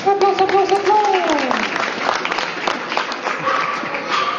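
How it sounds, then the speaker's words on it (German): A studio audience at a televised Western-themed casting show applauds in a dense, steady wash of clapping while a voice speaks over it near the start. "Applaus, Applaus, Applaus."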